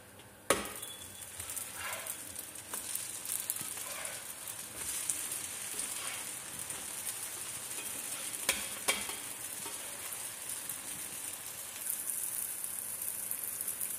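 Food pieces being turned over one by one in a hot frying pan, a steady close sizzle throughout with sharp utensil clicks and scrapes at the flips, no talking.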